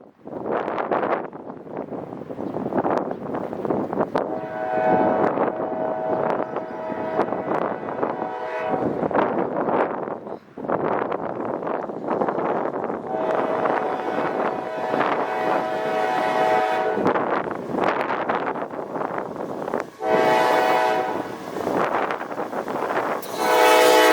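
A CPKC freight train carrying potash rumbles past steadily through snow, long horn blasts sounding repeatedly, loud and close, with wind buffeting the microphone.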